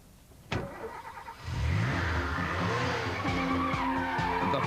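A Venturi 400 GT, a 408 horsepower V6 Renault-engined French sports car, accelerates hard with tyres squealing and skidding, the engine roaring loud and close over a sustained screech.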